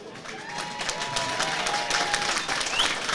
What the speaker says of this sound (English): it's an absolute pleasure to welcome you to Gears Boxing Academy Genesis.